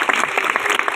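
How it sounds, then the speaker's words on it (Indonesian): Short, loud burst of audience applause at a public religious gathering marking Isra Mi'raj, dense clapping filling about one second with no talk over it. "Tepuk tangan buat orang tua."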